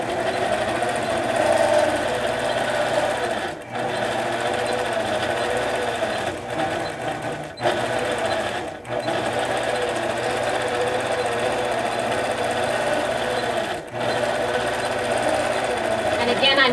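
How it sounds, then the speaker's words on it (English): A longarm quilting machine driven along a precise pantograph system stitches a quilt, its motor whirring in a steady, close drone with a few brief dips where the stitching pauses. "until I am ready to grab the handle and start quilting again"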